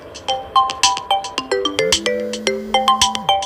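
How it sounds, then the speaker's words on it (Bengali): A phone ringtone sounds for an incoming call during Telegram account setup, a bright, loud melodic pattern of repeating electronic tones with a rhythmic, steady pulse, heard alone. "এখানে ফোন এসেছে, ফোনের মাধ্যমে বলা হবে যে কোডটি এসেছে"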